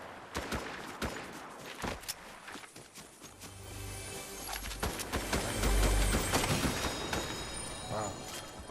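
Shotgun blasts in Fortnite, a series of sharp separate booms spaced irregularly over busy in-game noise, some near and loud, others further off.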